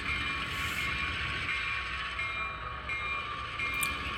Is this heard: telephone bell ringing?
no